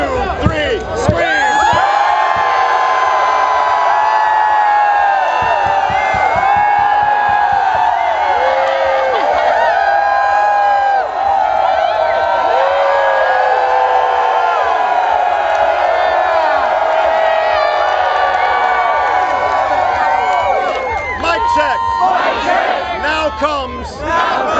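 A large crowd screams together in a loud, sustained roar that runs unbroken for more than twenty seconds. It stands in for a harmonica solo at a lively rally-style event.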